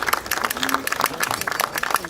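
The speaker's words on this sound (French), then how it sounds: "Oui, ça mérite bien des applaudissements." Crowd applause honours the Portuguese association at a Dreux–Almeirim twinning ceremony, a dense patter of clapping that rises and falls steadily with voices mixed through it.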